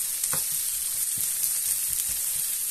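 Red pepper and green beans frying in a pan give a steady close sizzle, with a few soft stirring scrapes and taps under it.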